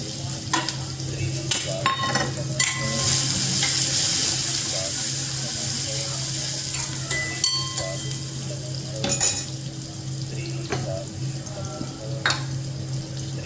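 Onions frying and being stirred in a pan, a steady sizzle with scraping clicks and clatter of the utensil, close and fairly loud throughout, no talk.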